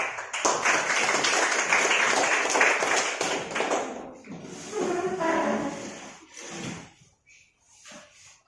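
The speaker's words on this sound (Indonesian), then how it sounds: "Kita tepuk tangan dulu buat yang memimpin doa." Classroom applause for a student who led a prayer, a burst of dense clapping that breaks off midway into scattered claps and light background chatter.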